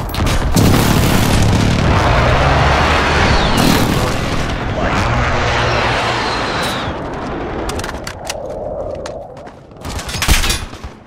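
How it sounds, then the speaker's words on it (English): Precision airstrike explosions in the Call of Duty: Modern Warfare video game: a loud, rolling barrage of blasts and booms that overlaps into a continuous roar, then thins into sharper cracks and a final burst near the end. "Allied precision airstrike incoming."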